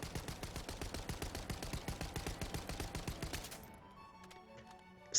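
An automatic weapon fitted with a recoil mod in the shooter The First Descendant fires a rapid, even stream of shots for about three and a half seconds, then stops, leaving faint game sounds and a brief click at the end.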